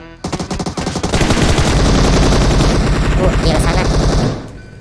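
Loud rapid automatic gunfire aimed at a car in PUBG Mobile, a few spaced shots followed by a sustained dense burst of fire lasting several seconds, with a brief spoken line over it.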